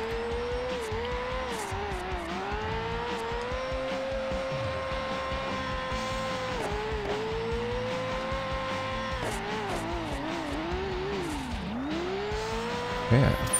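A Nissan S13 drifts in a driving video game, its engine note rising and dipping through repeated revs while tires squeal in long continuous slides at an event track.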